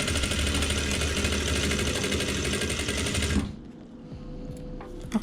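A sewing machine stitches a baby hem on silk with a rapid, loud mechanical whir and rhythmic needle chatter, then stops abruptly, leaving quiet handling noise.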